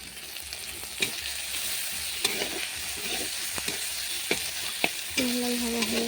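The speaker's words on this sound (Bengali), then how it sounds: "দিয়ে আরও অল্প কিছু সময় লাল করার জন্য ভাজলাম।" Garlic paste frying in a pan until red, a steady close sizzle broken by occasional sharp clinks of a stirring spoon against the pan, with a brief tonal scrape near the end and no talk.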